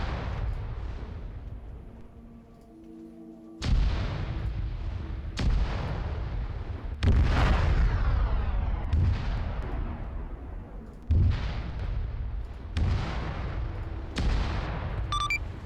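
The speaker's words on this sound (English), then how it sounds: "Airfield's getting artillery." Video game artillery fire hitting an airfield, a series of loud, heavy booms roughly every one to two seconds, each one rolling off in a long rumbling echo, with no voices over it.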